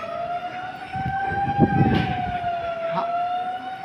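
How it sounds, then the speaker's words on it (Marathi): A civil defence air-raid warning siren at a mock drill wails steadily with a slowly rising and falling pitch, loud and continuous, with faint background noises beneath it. "कमी जास्त आवाजात सायरन वाजविला जाईल"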